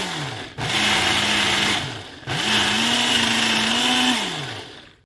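A food processor whirs through ripe banana in two loud, close, steady motor bursts with a brief pause between them, no voices present.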